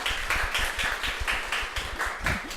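Clapping from a small audience at a live public radio broadcast, a quick rhythmic run of distinct, fairly close hand claps, roughly four per second, with no talk.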